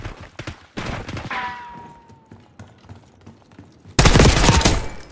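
Gunfire in the Call of Duty Black Ops 6 video game, several sharp shots early on, then a quiet stretch and a loud sustained burst near the end.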